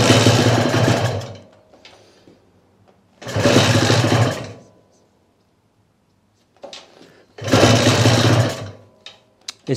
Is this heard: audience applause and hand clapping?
no